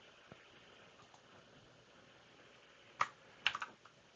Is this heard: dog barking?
no